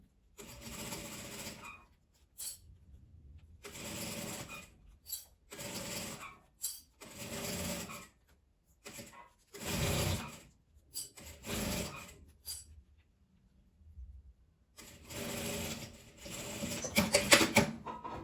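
A sewing machine stitches a school pencil case in short bursts, several separate runs of whirring needle clatter broken by silent pauses, close and moderately loud, with a longer final run.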